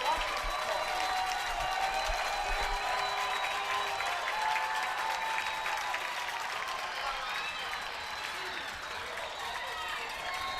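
The Danville home cheering section applauds and cheers steadily at a 2017 high school football game against Western Boone, a broad crowd roar under an announcer's commentary.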